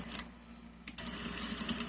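A sewing machine backstitches a seam on a baby wrap, a short mechanical stitching burst that stops briefly and then restarts as a steady whirring run close by.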